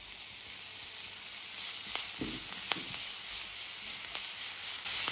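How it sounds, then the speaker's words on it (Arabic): Green peppers and parsley fry with garlic in a pan for a potato omelette, making a continuous close sizzle with a few sharp crackles and pops over about five seconds. "كمان بقليهن شوي. بحط الفلفل الأخضر والبقدونس."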